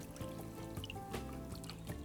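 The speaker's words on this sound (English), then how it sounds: "They only really need to be rinsed in water in case there's any dust or debris" Comfrey leaves are rinsed in water, giving a continuous trickle and splash of running liquid with small irregular sloshes, fairly close and without speech.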